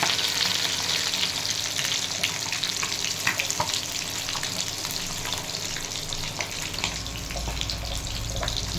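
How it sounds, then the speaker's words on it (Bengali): Home-pond fish frying in hot oil, reddening as they cook, with a steady, dense crackle and sizzle running loud and close throughout, plus a few sharper pops. "দেখুন আবার হচ্ছে ভাজা"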